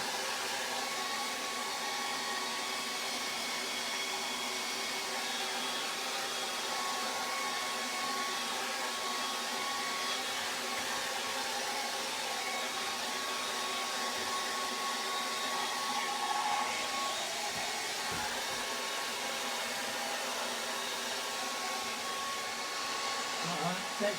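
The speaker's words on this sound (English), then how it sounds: "Right, we'll use the hairdryer again." A hair dryer blows steadily over wet acrylic paint on a drippy portrait, a constant loud whooshing hum with a faint whine, unbroken for the whole stretch.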